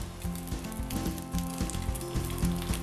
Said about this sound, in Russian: Обжариваем сало вместе с луком.